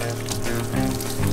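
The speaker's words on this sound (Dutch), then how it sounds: "Lekker koud douche." Cold shower water running outdoors, a loud steady splashing and gushing spray that lasts the whole moment, with no talk.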